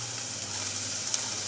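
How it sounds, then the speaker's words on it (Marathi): Onions drop into a hot kadhai and sizzle with a soft, steady frying hiss, close and fairly quiet, alone without talk. "कढई तापली आहे. मी आता हे कांदो घालून घेतोय."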